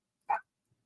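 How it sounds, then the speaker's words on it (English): A single short dog bark, fairly close and clear, followed by silence with a faint thump. "Can you hear her barking?"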